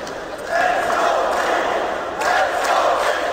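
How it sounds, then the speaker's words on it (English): Esports arena crowd at a live CS:GO match between Immortals and BIG, a roaring mass of voices swelling and surging twice, loud and sustained. "Oh, now the crowd are coming to life."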